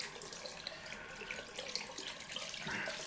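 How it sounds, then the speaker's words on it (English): Cold water runs from a bathroom tap into a sink during a wet shave, a steady soft hiss and splash that holds evenly throughout, faint and alone. "Let's get some cold water running."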